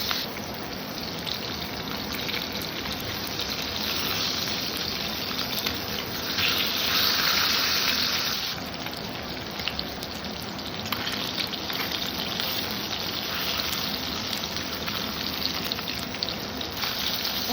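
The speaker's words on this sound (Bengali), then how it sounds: "গ্যাসটা ছোটো করে দিয়ে একটু টাইম নিয়ে মাছটাকে সুন্দর করে ভেজে নেবে" Shol (snakehead) fish frying in oil in a pan over a low gas flame, a steady close sizzle with a brighter hissing surge midway and no talk.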